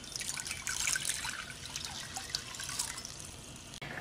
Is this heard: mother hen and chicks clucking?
no